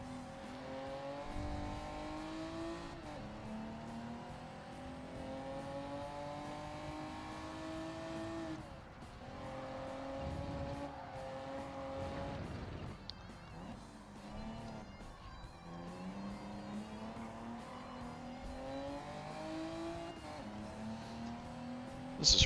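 Mercedes-AMG race car in Gran Turismo 7, engine revving up and down through gear changes with brief tire squeal at a switchback, steady and fairly quiet throughout.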